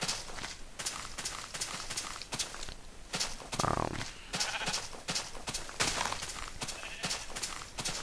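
Sheep bleating in Minecraft, short repeated cries over a steady backdrop of game ambience and footsteps.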